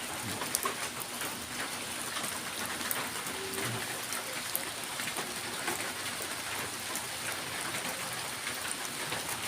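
Steady night rain patters continuously on a surface, a dense even hiss with scattered louder drops throughout.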